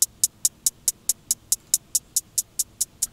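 Hi-hats in FL Studio processed with a Fruity Stereo Shaper stereo effect tick in a steady even pattern, about fourteen crisp bright hits over a few seconds, loud and dry with nothing else underneath.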